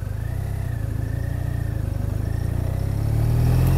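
A BMW R1200RT motorcycle pulls away uphill in first gear, its engine a steady low drone that swells gradually louder as it climbs, with no talk over it.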